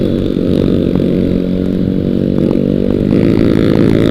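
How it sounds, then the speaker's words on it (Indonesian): A motorcycle with a loud aftermarket exhaust revs hard and close on a Sunday ride to Puncak Sukabumi, giving a raspy, buzzing roar that rises and falls. "Anjay, knalpotnya gila cuy. Dengerin knalpotnya."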